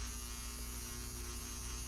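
A power tool whirs steadily on a guitar headstock, stripping off the finish with a constant high buzzing drone and no pauses.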